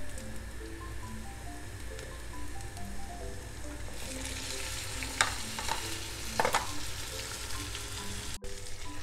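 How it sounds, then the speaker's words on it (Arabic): Fish frying in a pan over onions for a sayadieh rice dish gives a steady, close sizzle that runs throughout, with a few sharper spatters and scraping stirs partway through. Nobody speaks. "وهلا رح ضيف السمك فوقه عشان ياخد النكهة"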